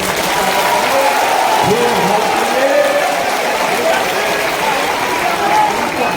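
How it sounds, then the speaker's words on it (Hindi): A large rally crowd in Patna applauds loudly and continuously, a dense roar of clapping with voices mixed in. "ऐसे नेतृत्वकर्ता की एक बार जोरदार ताली से हमने"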